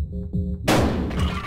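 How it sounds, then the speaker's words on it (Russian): A Buckshot Roulette shotgun goes off: a few soft mechanical clicks and a low hum give way to a single loud, close blast that rings out and decays, with no voices. "Так, и попробовать выстрелить."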